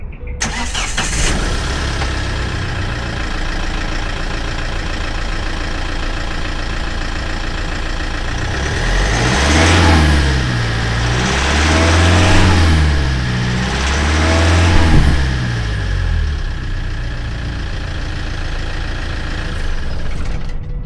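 Diesel engine of a used Tata Safari Storme starting up, then settling into a steady idle and being revved three times in succession. The engine sound is close and loud, with the revs rising and falling clearly above the idle.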